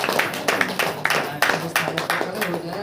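Clapping at a church prayer meeting comes as a run of distinct, rhythmic hand claps at a steady beat, fairly close, with a voice speaking over them.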